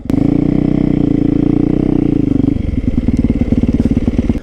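A 450 supermoto motorcycle's single-cylinder engine running close by: loud, rapid thumping exhaust pulses at a steady idle-like beat, then dropping to a slower, clattering chug, with no talk.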